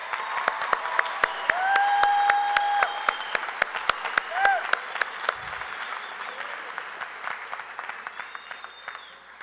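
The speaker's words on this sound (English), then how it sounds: "Let's hear an applause for these students." An audience applauds at a high school graduation ceremony, steady clapping filling the hall with a few loud near claps and whistles on top, cheers rising briefly before tapering off.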